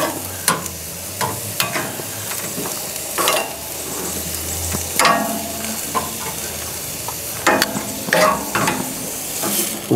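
Lamb and vegetables sizzle steadily on a hot grill, a loud continuous fry with repeated sharp scraping and stirring clatters from a utensil moving the food.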